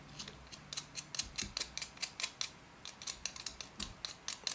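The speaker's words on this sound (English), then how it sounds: "I just need to sharpen my pencil a second" A pencil is sharpened by hand, giving a rapid series of close, crisp scraping and grinding strokes in an uneven rhythm, with no voices.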